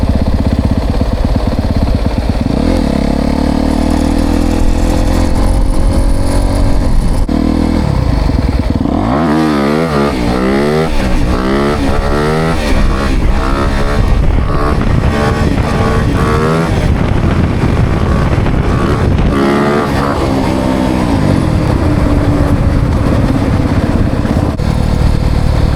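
A Polaris off-road vehicle's engine runs loud and steady throughout, droning and rising and falling in pitch as it cruises along on a mountain hunting trip, with no talk over it.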